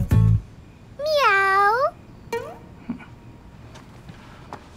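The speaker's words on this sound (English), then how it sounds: "yes, that does sound like a cat." A single clear, drawn-out cat meow close up, followed by a shorter, fainter mew and quiet background.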